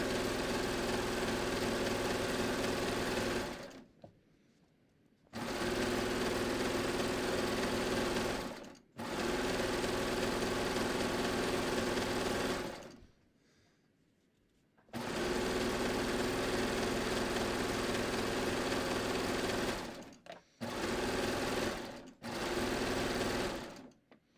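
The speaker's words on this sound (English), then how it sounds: "This is literally speed sewing." A sewing machine runs fast, stitching fabric for a last-minute holiday gift, in four long loud bursts with short pauses between them, alone with no talk.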